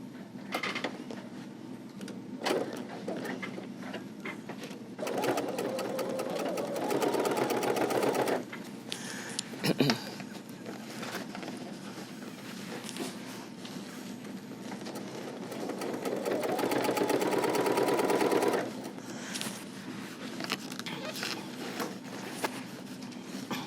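A sewing machine stitches a seam on an Easy Tri quilted zipper bag in two sustained whirring bursts of several seconds each, with quieter handling sounds between them.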